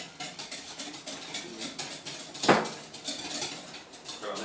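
Cake batter is beaten in a bowl for a creamy cake, with quick, steady rhythmic tapping and scraping strokes close by and one sharper knock partway through, over a quiet room background.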